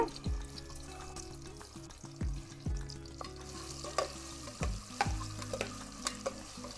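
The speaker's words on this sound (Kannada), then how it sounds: "ಖಾರ ಉಪ್ಪು ಹಚ್ಚಿದ್ದ ತತ್ತಿ ಅದಾರಲ್ಲ ಅವತ್ತನ್ನ ಒಂದು ಎರಡು ನಿಮಿಷ ಎಣ್ಣೆಯಾಗ ಫ್ರೈ ಮಾಡ್ಕೊಳ್ಳೋಣ" Eggs coated in chilli and salt frying in hot oil for egg biryani, a continuous crackling sizzle close by with occasional stirring clinks and a few low thumps.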